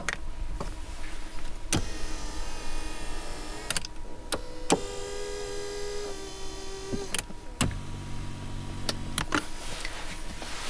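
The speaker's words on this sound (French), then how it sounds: "Pour les sons fonctionnels de la fenêtre et du siège, il est très important qu'ils aient la même intensité" Car power window and seat motors whir in short separate runs, with clicks and ticks between them, close and fairly quiet, with no talking.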